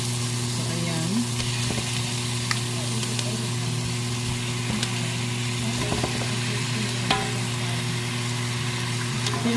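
Chicken, a native running chicken for tinola, sizzles steadily in a hot pan with tomato, a continuous crackling fry over a faint background hum with occasional stirring clicks.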